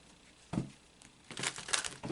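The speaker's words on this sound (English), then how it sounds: "So I'm going to shuffle one more time." A quick riffle of cards at about half a second, then a longer crisp flurry of papery flicking, close and fairly loud, with no talking.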